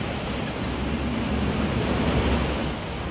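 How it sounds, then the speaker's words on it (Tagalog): Strong floodwater current of the overflowing Lasang River in Davao City during heavy rain, a loud, continuous broadband rush and roar close to the microphone with steady turbulence throughout. "Malakas ang agos ng tubig na umapaw sa Lasang River."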